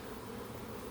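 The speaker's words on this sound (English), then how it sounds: "so I just go ahead and pour the bees in there in the box." A honeybee swarm poured into a hive box with frames removed, a dense, loud, continuous buzzing of many bees close by, with no voices.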